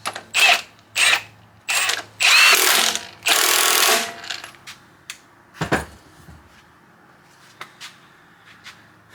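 An impact wrench hammers a new crank bolt onto a turbo Miata engine in several short, loud bursts of rapid rattling, close up, followed by lighter clinks and taps of tools.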